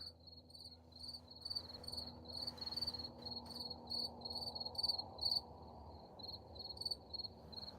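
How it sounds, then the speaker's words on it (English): Insects, likely crickets, chirp steadily at night in a dense, pulsing chorus, with rapid repeated trills layered over a low background hum, moderately loud and continuous throughout. "Never mind the bugs."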